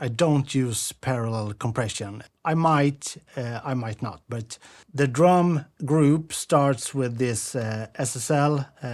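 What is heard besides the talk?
No everyday noises stand out.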